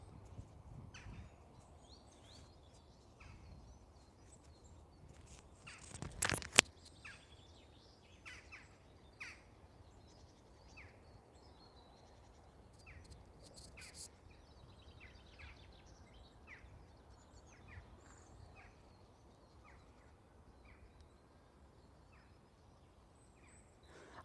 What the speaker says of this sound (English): I was about to say nothing but birds